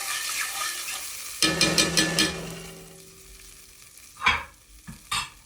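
A spoon mixes masala spice powder in a curry pot, giving a short run of sizzling, scraping strokes, then quieter bubbling and a few separate close stirs and knocks.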